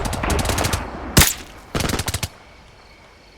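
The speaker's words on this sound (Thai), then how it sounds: "ก็ยิงไปสิคะ" Gunfire in the video game Call of Duty Modern Warfare Remastered comes in rapid automatic bursts, one sharp loud shot in between, then another quick burst before fading out.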